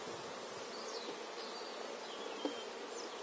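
Honeybees buzz steadily around a hive being moved from a nucleus box into a full hive, a constant close drone with individual bees whining past now and then.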